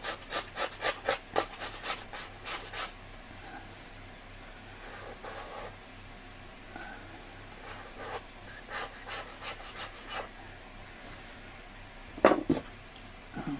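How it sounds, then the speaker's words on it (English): A palette knife scrapes oil paint off an artist's palette in a series of short, close scratching strokes, clustered at the start and again near the end with quieter rubbing between. "Now, just scrape off a bit of palette."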